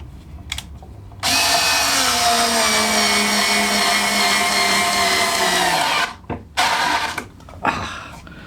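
An Aldi Workzone 3.6V cordless screwdriver drives a screw into clamped oak with no pilot hole, its steady high motor whine holding for about five seconds before cutting off, followed by a few short whirs, loud and close.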